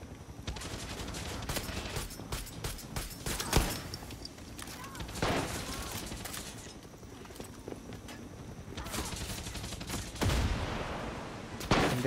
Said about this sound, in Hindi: गोलीबारी हो रही है गलत तरीके से यहाँ तो